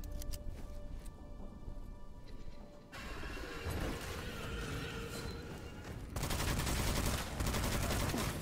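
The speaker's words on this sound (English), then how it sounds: "It's a fully automatic weapon." A fully automatic weapon fires in Witchfire on the Ghost Galleon level, producing continuous rattling bursts with crashes and impacts that grow louder toward the end.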